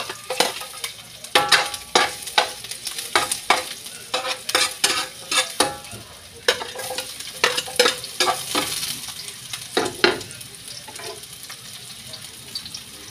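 Corned beef sautéing for misua in a pan, with a steady sizzle of frying broken by repeated clanks and scrapes of a utensil stirring against the metal, close and fairly loud throughout.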